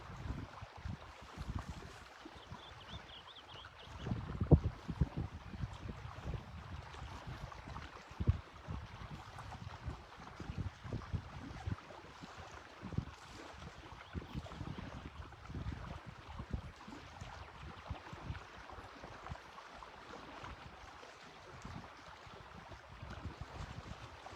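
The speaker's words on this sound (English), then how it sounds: "I'm gonna sit quiet for a little bit, let you guys experience the waves" Ocean waves wash in steadily, mixed with gusty wind buffeting the microphone and occasional louder surges, with no talking.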